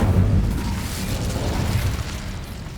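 A roaring whoosh of fire from an Incendio spell in Hogwarts Legacy, loud and steady with a heavy low rumble that holds for nearly three seconds without a break.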